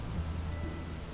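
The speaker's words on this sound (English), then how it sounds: "the rain had mostly let up, but the wind still howled, and the thunder still sounded through the opening in the canopy above him" Steady rain under low rumbling thunder, a continuous stormy backdrop with no voices, used as an effect in an audiobook mystery thriller.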